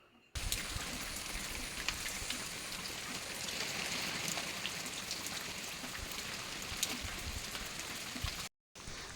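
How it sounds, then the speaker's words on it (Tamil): Heavy rain pours down outdoors, a dense, steady hiss of drops hitting surfaces that continues evenly for several seconds before cutting off briefly near the end. "அப்புறம் வெளியில் பார்த்தோங்கன்னா செம்ம மழை கைஸ்."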